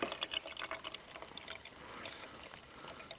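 Clear birch sap pours and trickles into a container outdoors, a close, faint, continuous liquid splashing and dribbling with no talking.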